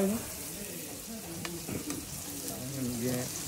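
Onions, garlic and thyme sizzle steadily while being sautéed in a pan for a fish carry, frying close up, with stirring scrapes and faint voices in the background.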